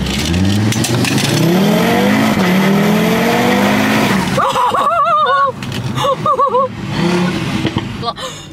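A stage 2 tuned Audi TT RS launches hard using launch control, its engine revving loudly with a rising note through the gears, followed by squealing tires and whining, warbling tones as it slows.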